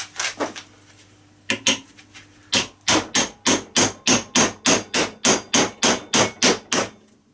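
Sharp metallic strikes on a DENSO alternator clamped in a vise as its shaft is driven out, a few scattered hits followed by a steady run of about a dozen evenly spaced loud blows, close and with no talking.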